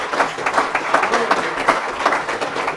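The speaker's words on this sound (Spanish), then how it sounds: "Dele un aplauso de alabanza al Señor." A church congregation applauds in praise of the Lord, producing steady, dense clapping from many hands that fills the room at a lively, even pace without pause.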